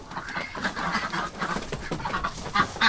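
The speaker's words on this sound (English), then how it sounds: "Just listen to the ducks coming in to see what I'm doing." Ducks approach with a run of short quacking calls, fairly near, rising and falling in bursts through the scene, with the loudest calls coming toward the end.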